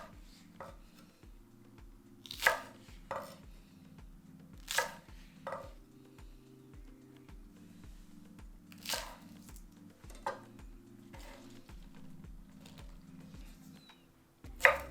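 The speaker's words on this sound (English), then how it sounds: "Discard the roots and cut green onions into 4 to 5 centimeter lengths." A knife chops green onions into short lengths on a cutting board, steady rhythmic taps that are close and fairly quiet, with several sharper, louder strikes scattered through; no one speaks.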